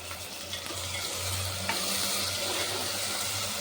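Tomato hitting a pan of fried onion, ginger and garlic paste for a cauliflower and egg pulusu, a steady close sizzle with a faint low hum underneath and a few soft stirring knocks, no talking.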